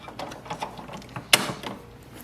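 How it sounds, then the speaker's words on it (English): An ink cartridge is pushed into an HP DeskJet 2742e printer and locks with a single sharp click, preceded by soft rattling and handling sounds, close up. "Hold the printer with the other hand and push it in. It will lock."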